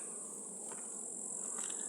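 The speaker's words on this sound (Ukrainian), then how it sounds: "Бджоли багато у магазині" Honey bees hum in a hive super, a steady, dense, high buzz that stays even throughout, close and fairly quiet, with no voices.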